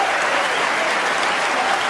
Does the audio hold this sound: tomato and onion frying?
no